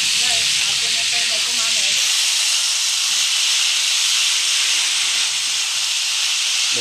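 Kangkong (water spinach) sizzles in a hot pan as it is stirred, a loud, steady hiss that runs throughout, close up, with brief talk at the start.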